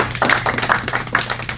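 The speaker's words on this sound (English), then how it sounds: "Give him a big round of applause." Audience applause at a hypnosis training session, a short stretch of close, fairly loud clapping with distinct individual claps over a low hum.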